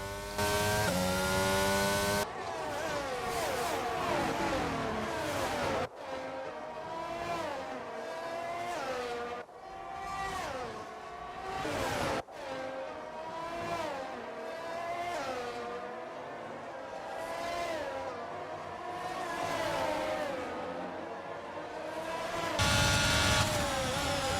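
Formula 1 race cars from the F1 22 video game scream past during an overtake at the Emilia Romagna circuit, with rising and falling engine whines that are loud and continuous and broken by abrupt cuts.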